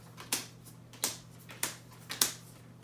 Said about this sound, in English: we're going to actually shuffle them into 3 different piles